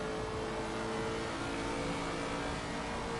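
Race car circling Suzuka circuit, a continuous loud engine drone holding high revs with steady tonal whine, heard from onboard without pauses.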